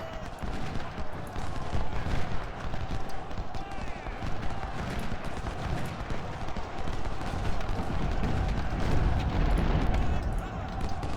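Cannon and musket fire in the Civil War strategy game Ultimate General: Civil War, a dense continuous battle din of overlapping shots and booms that runs steadily throughout.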